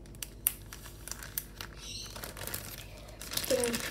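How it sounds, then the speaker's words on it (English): Crinkly plastic and paper rustling in close, irregular bursts, with a few sharp crackles and a louder crumple near the end. "I'm just gonna get my paper and put it in the plastic bag like that."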